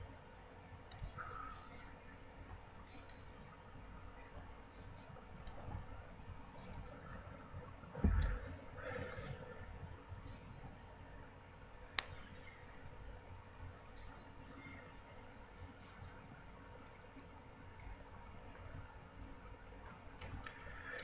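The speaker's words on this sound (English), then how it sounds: "Now, I'm going to clip these little wires back." Small snips clipping the thin coil wires of a dual-coil atomizer build, a few sharp isolated clicks, one loud cut near the middle, over a steady low room hum.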